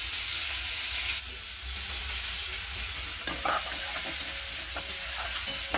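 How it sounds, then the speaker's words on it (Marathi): Soaked moong dal stir-fried in a pan with garlic-chili paste for a dill and spinach dry bhaji gives a steady close sizzle, with intermittent scraping stirs of a spoon against the pan. "आता याच्यामध्ये मुगाची डाळ भिजू घातलेली टाकून।"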